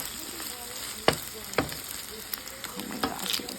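Migas with egg and chile piquín fry in a pan, a steady sizzle broken by several sharp scrapes and clacks of a utensil stirring and moving the food around.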